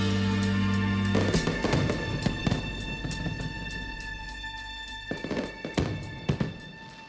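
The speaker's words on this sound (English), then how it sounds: "Fireworks at the end." Fireworks crackle and pop at the close of a rap song, scattered bursts and thumps rising over a fading, sustained musical backing.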